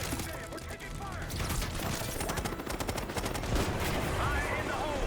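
Call of Duty Black Ops 6 campaign combat: dense automatic gunfire and rapid shots roll continuously, loud and close, with mechanical clatter layered through the firefight.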